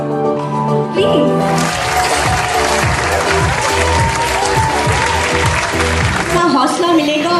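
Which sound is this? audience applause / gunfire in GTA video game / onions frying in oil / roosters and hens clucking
audience applause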